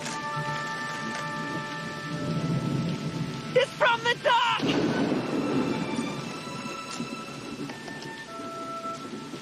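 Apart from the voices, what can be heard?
thunder and rain from a Back to the Future movie clip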